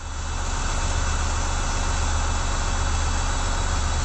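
A parked RV that has sat unused for a long time, with a leaking hydraulic power-steering pump, runs its engine at a steady low idle, a close, continuous rumbling drone with no voices over it.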